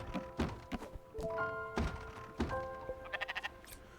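Sheep bleating while being shorn in the Spiritfarer video game: several short bleats and tonal game chimes over soft thunks and clipping sounds, close and moderately quiet.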